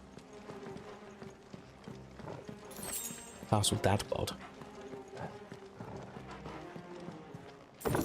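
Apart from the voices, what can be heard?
horse hooves clip-clopping in the video game Final Fantasy XVI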